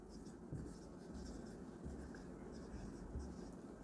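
Chalk or marker scratching steadily across a board during a biology lecture on spermatogenesis, a quiet continuous scraping with small bursts of strokes throughout, alone without talk.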